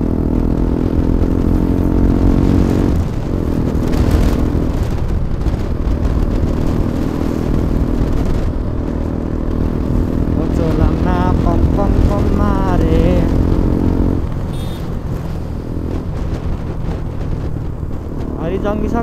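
A motorcycle engine runs steadily nearby with a deep, continuous rumble that eases slightly near the end, while someone talks over it.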